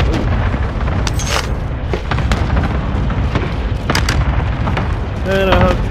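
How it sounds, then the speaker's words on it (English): Airstrike explosions in the video game Warzone: several heavy booms and blasts burst through a steady rumble of combat, with players talking over the action. "I'm throwing an airstrike down"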